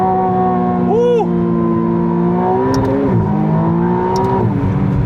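A McLaren Artura Spider's engine spins up to high revs close by, with a loud, smooth, tonal drone that climbs, dips briefly with a gear change and climbs again, and a voice is heard faintly over it.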